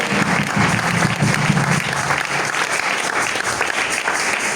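A church congregation at a victory service applauds for Jesus, a dense, steady wash of many hands clapping that holds at full volume from start to finish, with crowd murmur underneath.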